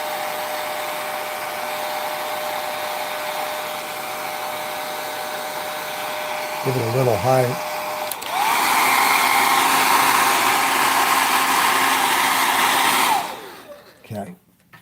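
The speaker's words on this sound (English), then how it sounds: "So I have the hair dryer, just so I don't lean into it. I'll put it on low." A hair dryer on its low setting blows over airbrushed acrylic paint on stretched canvas, a steady close whooshing roar that briefly drops, surges louder, then cuts off, with a short spoken remark in the middle.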